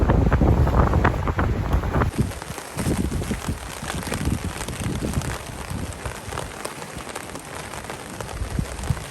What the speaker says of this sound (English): The wind completely switched around on me.